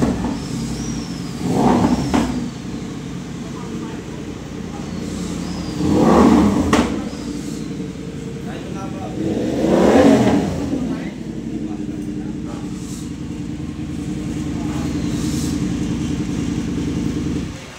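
A BMW motorcycle with a very short exhaust pipe revs at an exhaust shop in Deparo, Caloocan, rising in three loud throttle bursts over a steady idle, with people talking nearby.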